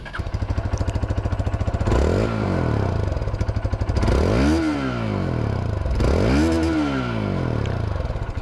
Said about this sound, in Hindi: अब इसकी जो एग्जॉस्ट साउंड है वो भी आप लोग सुन लीजिए।